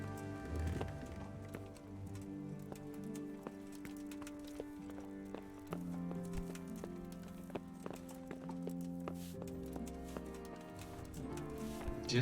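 Horse hooves clip-clop in a steady trot in Kingdom Come: Deliverance, faint and quick, over a soft background music bed with sustained tones.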